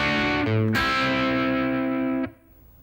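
A heavily distorted electric guitar plays a short riff, a few chugging notes, then lets a thick chord ring before cutting off.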